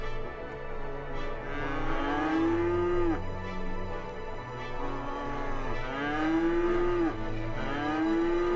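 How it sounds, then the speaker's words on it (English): Cattle in the city-building game Cities: Skylines moo repeatedly, several long, overlapping lowing calls with falling pitch, moderately loud over a quiet background. "We have some cows over here already?"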